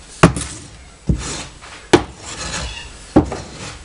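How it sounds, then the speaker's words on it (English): A rake drags and mixes foundry facing sand in a home foundry, giving four gritty scraping strokes with sharp onsets at roughly regular intervals, close and fairly loud, with no talking. "The sand's beginning to pile up more on the rake as it goes through."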